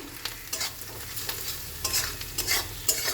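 A spatula stirs turmeric, coriander, cumin and salt through onions in a frying pan for a potato and pea curry, giving repeated scraping strokes over a low sizzle, with no talk.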